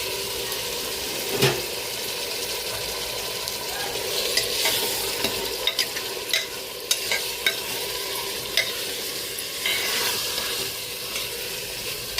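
Vadi stirred and frying with browned onion in a pan, a steady sizzle with scattered scraping clicks of a spoon against the metal.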